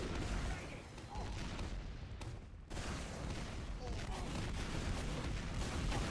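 Sticky bombs fired and detonating in Team Fortress 2 on the cp_process map, a dense run of loud blasts and gunfire that breaks off briefly midway before the barrage resumes, with a voice talking underneath.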